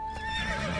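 A horse whinnies in a stable, one short, close, loud neigh with a wavering pitch.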